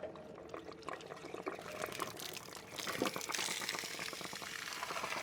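Water gushes steadily out of an RV water heater tank after the anode rod is pulled, a faint, continuous splashing and trickling rush that swells slightly partway through.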